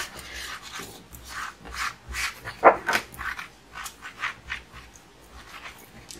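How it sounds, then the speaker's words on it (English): A dry cloth buffing leftover ink off a rubber stamp, making soft, repeated rubbing and scratching strokes in an uneven rhythm, close and fairly quiet, with no talking. "I just take it in a dry cloth to kind of buff off any leftover ink that might be on it"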